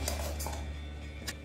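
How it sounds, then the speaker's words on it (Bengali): Flour with salt and pepper stirred in a bowl, giving a few soft, sparse clinks of a utensil against the bowl over a low, quiet background. "সব কিছু ভালো করে মিশিয়ে নিচ্ছি।"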